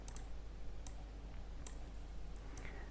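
Computer keyboard typing: a handful of light, sparse key clicks, quiet and close, spaced irregularly over a faint steady hum.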